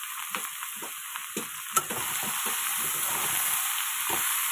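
Chopped bottle gourd with green chilli and onion tips into a hot pan, a steady close sizzle with scattered scrapes and knocks of stirring throughout.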